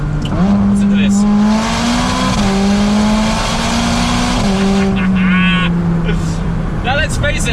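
A McLaren 600LT Spider sports car under way, its engine droning loudly and close with rising and falling revs as it shifts, a voice briefly talking over it.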